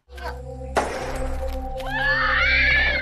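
A man's scream in a dramatic action film scene rings out loud and sustained over a steady low hum, starting with a sharp burst and rising into a strained high cry toward the end.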